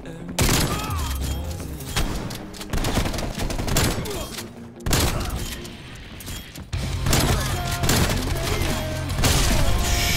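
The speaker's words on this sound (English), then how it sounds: "Hip firing one after another" Hauer 77 pump shotgun in Black Ops Cold War fired from the hip again and again, loud booming blasts in quick succession with mechanical pump clacks between shots, dense and close.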